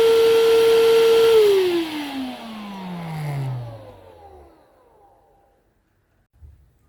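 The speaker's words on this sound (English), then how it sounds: "So this is just vacuuming my mattress for about a minute." A PerySmith Bossman Kaden PRO K3 cordless vacuum cleaner on a mattress gives a steady, loud motor whine, then powers down and winds to a falling hum before going silent.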